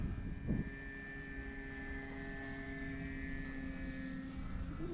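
A Cermark Fantasy Flyer RC model airplane flies steadily nearby, its small engine droning in a constant buzzing tone with steady harmonics and no voices.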